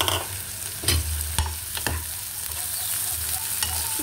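Hotdogs sautéed in a pan give a steady close sizzle, with several louder scraping stirs breaking through at irregular moments.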